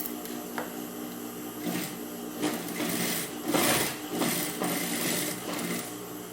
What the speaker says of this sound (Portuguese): Agora eu vou passar aqui a costura de acabamento, fazendo o pesponto rente.